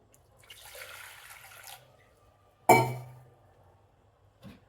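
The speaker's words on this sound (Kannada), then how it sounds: "ನೀರು ಹಾಕ್ಕೊಳ್ತಾ ಇದ್ದೀನಿ." Water pours into a pressure cooker set on a kitchen stove for a lentil payasam, a faint, soft splash lasting about a second. A sharp metallic clunk follows, then a small knock.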